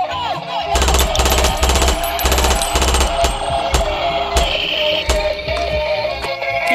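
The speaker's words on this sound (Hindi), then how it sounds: "ये गन से हम बच्ची को बचाते हैं और ड्रैगन डायनासोर के ऊपर फायर करते हैं" A cartoon gun fires at a dragon dinosaur in an animated toy video, letting off loud, rapid machine-gun bursts in quick repeated volleys, then sparser single shots and clanks over busy background effects.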